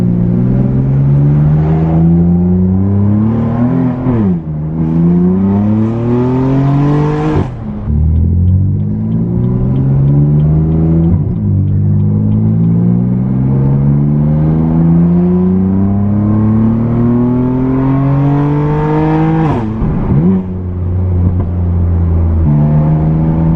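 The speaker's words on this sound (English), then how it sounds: "Hear the turbo spool like crazy" A catless BMW F80 M3 with an Active Autowerke single mid pipe pulls through repeated hard accelerations, the engine note climbing in loud sweeping runs, the turbo spooling audibly, with sharp drops at each shift before it winds down again.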